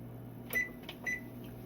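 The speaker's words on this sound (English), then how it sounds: "So I'm gonna turn my oven down" Electronic oven control panel beeping as the temperature is lowered, giving three short, faint, high-pitched beeps, spaced about a quarter to half a second apart, over a low steady hum in a quiet kitchen.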